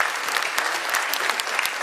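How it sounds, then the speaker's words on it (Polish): An audience at a charity concert claps in dense, sustained applause, a bright steady patter of many hands filling the hall without pause. "Brawa dla pana Marka"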